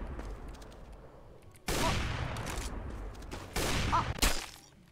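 Gunfire in Roblox Arsenal, a couple of loud, close bursts of rapid shots breaking over quieter game ambience, the volleys separated by short pauses.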